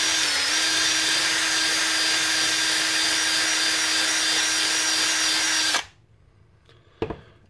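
A power drill bores out the brass breech of a Nerf Retaliator blaster, a loud continuous high whine that stops abruptly near the end, followed by a short clatter.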